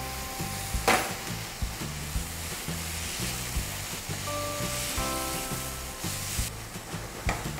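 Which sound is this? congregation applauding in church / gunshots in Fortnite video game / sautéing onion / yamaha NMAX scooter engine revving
sautéing onion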